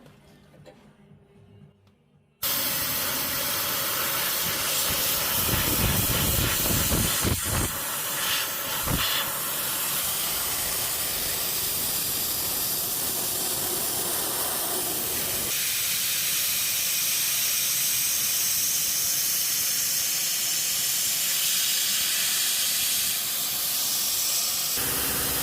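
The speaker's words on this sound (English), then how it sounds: "So hopefully you can hear me over the compressor" An air compressor running in a van workshop, a loud steady hiss and roar that starts abruptly after a quiet moment and continues unbroken, close by, with no talking.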